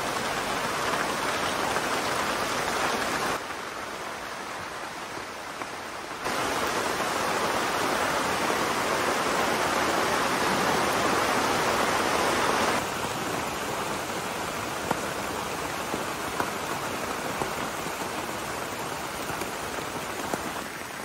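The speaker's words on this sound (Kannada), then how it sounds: "ಹೊರಗೆ ಜೋರು ಮಳೆ ಬರ್ಲಿಕ್ಕೆ ಆಗಿದೆ. ಮಳೆ ಬಂತು ಕೂಡ ನೋಡಿ." Heavy rain pours steadily outside as a dense, continuous hiss that shifts in intensity across the stretch, with no voices present.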